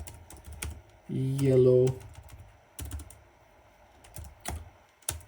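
Code is typed on a computer keyboard in scattered, sharp key clicks at an uneven pace, with a person briefly speaking partway through.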